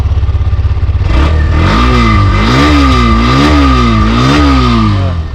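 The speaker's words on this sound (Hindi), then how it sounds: "तो ये कुछ ऐसा इसका स्टार्टअप है, ये ऐसा कुछ इसकी एग्जॉस्ट नोट है।" A Hero Xtreme 125R motorcycle with a 125 cc engine starts up and revs loudly nearby, its exhaust note rising and falling in repeated throttle blips over a steady idle.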